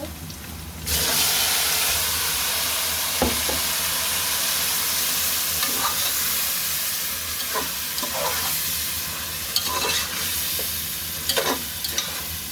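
Fried onions and biryani ingredients sizzle loudly and continuously in a pan, a steady hiss broken by a few clinks and scrapes of stirring, with no one speaking.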